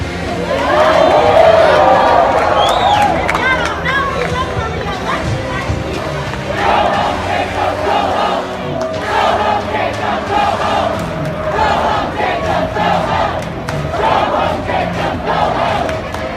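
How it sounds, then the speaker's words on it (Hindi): Protesters jeer and hoot at the Minneapolis mayor in a loud, dense street crowd, with shouts and rising calls layered over a continuous roar of voices for the whole stretch. "प्रदर्शनकारी नाराज हो गए और मेयर की हूटिंग करने लगे"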